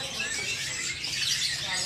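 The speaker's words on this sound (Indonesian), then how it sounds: "satu ekor kacer wulung meluncur ke tempat bos Dwi Yanto, Jakarta Barat" A black oriental magpie-robin (kacer wulung) sings in a dense run of bright, high chirps and whistles that stays close and fairly loud throughout.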